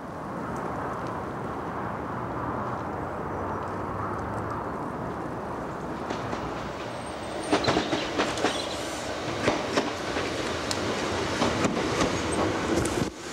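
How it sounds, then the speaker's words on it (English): A steam train rumbles steadily along a main line in a Peak District valley, its noise building as rhythmic clacks and bursts of chuffing grow louder toward the end. "Further down the valley, we catch a steam train on the main line."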